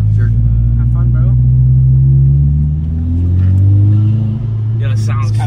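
2022 Subaru WRX fitted with an ETS intake and Dmann tune revving, a deep loud engine drone rising and falling in pitch, heard from inside the car while people talk over it.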